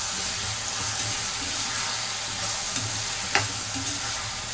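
Prawns coated in ginger garlic paste fry in a pan, giving a continuous broad sizzle with a couple of faint clinks and a brief sharp tap, close and fairly loud.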